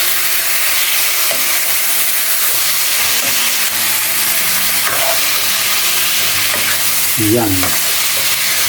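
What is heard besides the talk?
adobo cooking in a pan after adding liquid seasoning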